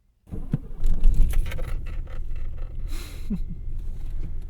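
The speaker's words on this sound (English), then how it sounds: "Starts like an old car." A 1980 BMW 733i engine cranks and catches, then settles into a rough, rumbling idle close by.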